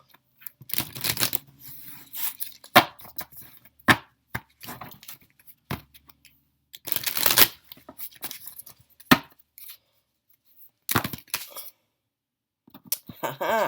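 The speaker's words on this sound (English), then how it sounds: "I'm going to give these a good shuffle." Tarot cards shuffled in repeated riffles and bursts of rustling, separated by short quiet gaps, close and fairly loud.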